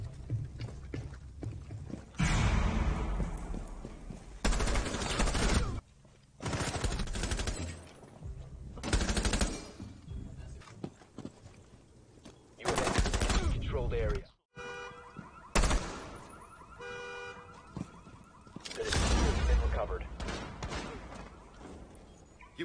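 Gunfire in Rainbow Six Siege: loud bursts of automatic fire come in repeated blocks several seconds long, separated by brief quieter gaps, with other game effects in between.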